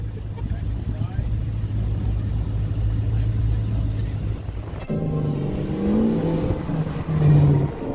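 A truck engine idles while warming up in the snow in Texas, giving a steady low rumble that shifts in tone partway through, with voices nearby.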